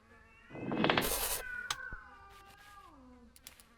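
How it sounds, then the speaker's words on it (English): Cats meow in the video game Landlord's Super: a loud, drawn-out yowl, then softer, shorter meows that trail off, close and clear with no talk over them. "There's cats."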